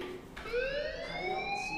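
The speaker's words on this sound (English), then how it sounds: "make that fire alarm stop!" A fire alarm in the video game Life is Strange gives a continuous rising electronic wail, fairly quiet and steady, with no voices over it.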